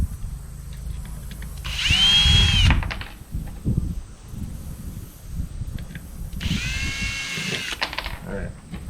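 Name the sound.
power drill driving screws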